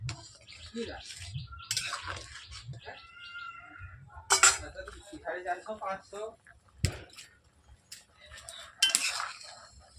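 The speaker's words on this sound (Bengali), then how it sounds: "কাজু বাটাকে দেওয়ার পর আমি এইভাবে তরকারির মধ্যে মটর পনিরের মধ্যে এইভাবে গুলিয়ে নিচ্ছি।" A spoon stirs cashew paste into a dhaba-style matar paneer curry in a pan, giving repeated scraping clinks of metal on cookware, with a person talking throughout.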